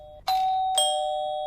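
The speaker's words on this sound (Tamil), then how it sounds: "என்ன காலிங் பெல் சத்தம் கேக்குது?" A doorbell rings in a home, two clear electronic ding-dong chimes in quick succession, with the second tone ringing out and fading slowly.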